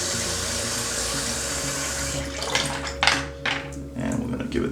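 Cold water runs steadily from a tap, with some splashing and shifting as something is rinsed under the stream partway through after shaving.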